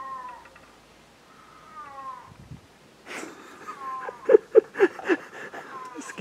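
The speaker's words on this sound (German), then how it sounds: "Das ist eine Katze? Ich glaube schon." A cat meows several times in thin, drawn-out cries, with people talking over the later, louder meows.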